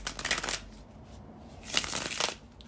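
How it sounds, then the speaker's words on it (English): Tarot cards shuffled in two quick riffling bursts separated by a brief pause, close and fairly quiet, with no talking. "to shuffle the tarot cards"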